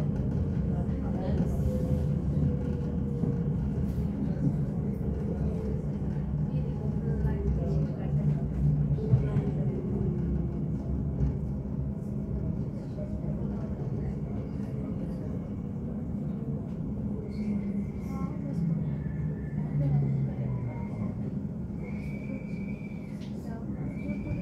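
Steady low rumble of an Elizabeth Line train running between Stratford and Seven Kings in London, with wheel and carriage noise throughout and faint high whines from the traction motors near the end.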